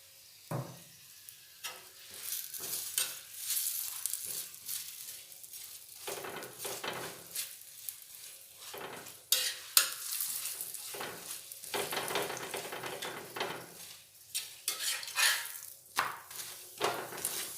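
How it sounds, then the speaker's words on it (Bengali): A cauliflower paratha fries in oil on a hot pan, giving uneven bursts of crackling sizzle that swell and fade, close and fairly quiet, with no talking. "দিয়ে এপিট ওপিট বেশ ভালোভাবে লাল লাল করে ভেজে নেব"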